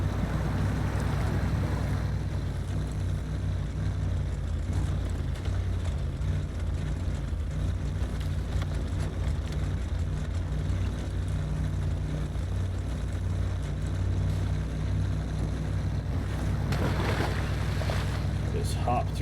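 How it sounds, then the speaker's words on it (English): A 1979 Chevy K30 truck grinds through mud in the SnowRunner video game, its engine a constant loud low drone with rumbling, sloshing texture throughout. "Just hop through that mud."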